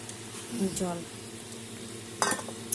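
Water poured into a sizzling, well-fried spice masala for a Bengali rui fish curry and stirred: close steady frying hiss with a brief bubbling gush and a couple of clattering utensil scrapes near the end.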